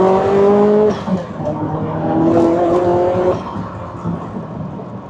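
Ferrari F40 with a 471-horsepower boosted engine, fitted with studded tires, revving hard under acceleration: a loud, close, rising engine note that holds, dips briefly, then climbs again before easing off.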